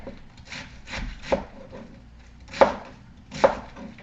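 A knife slices through fish for blackened fish on a cutting board, giving several separate chopping and scraping strokes at an irregular pace, close and fairly clear, with no voices.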